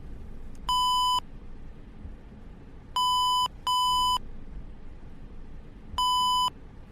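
A Hong Kong minibus speed warning sounds as clean electronic beeps, four short tones in uneven spacing, two of them back to back, over low engine rumble inside the vehicle.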